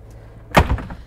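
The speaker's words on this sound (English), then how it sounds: "I'm going to close the door so we're not listening to the generator" Inside a Newmar Super Star 4061 Super C motorhome, a door swings shut with a single dull thump and a brief rattle, close by over a faint steady hum.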